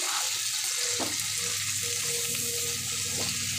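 Chicken fajitas with a cornstarch-thickened spice mix sizzle steadily in a pan, a dense continuous fry close by with a couple of brief louder spits, no talking.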